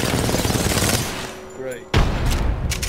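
Gunfire in the battle royale game Apex Legends, with sniper fire among dense bursts of shots that stay loud throughout, broken by a brief lull and a sharp blast near the two-second mark.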